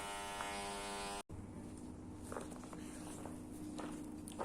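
Electric power sander buzzing steadily against a wooden axe haft, close and fairly quiet, cutting out briefly before restarting and running on with faint scraping contact noises.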